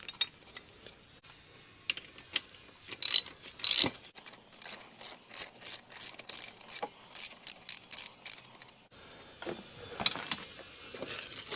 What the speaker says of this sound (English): I'm just threading the screw back in now, just so that it doesn't back out